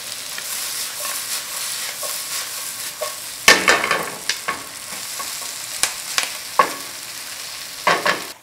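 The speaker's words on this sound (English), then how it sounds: "Let's add all vegetables except for bok choy. You gotta cook it over high heat." Vegetables stir-fried over high heat in a pan for spicy seafood jjamppong, a bright continuous sizzle punctuated by repeated loud clanks and scrapes of tossing and stirring, close and busy, no speech.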